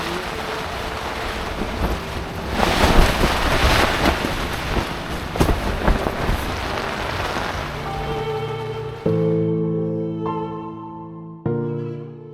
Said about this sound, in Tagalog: Kinabukasan ay maulan at mahangin pa rin.